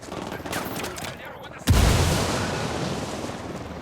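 A frag grenade bursts in the tactical shooter Ghost Recon Wildlands, one loud sudden blast after a stretch of scattered gunfire, then a rumbling tail; voices speak before the blast.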